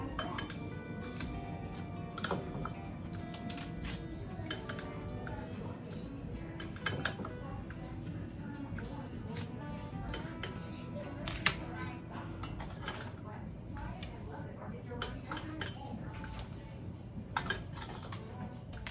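Dirty dishes, pots and utensils clink and clatter as a home cook piles them into a large bowl after baking molasses cookies, with steady kitchen background noise and scattered sharp clinks throughout.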